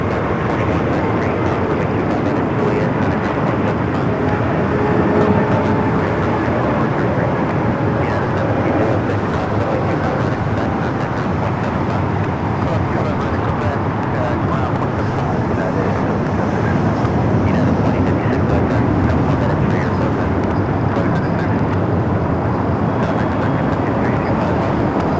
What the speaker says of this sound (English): China Airlines, Flight 8, coming up from Taipei, and the 777 at 300ER.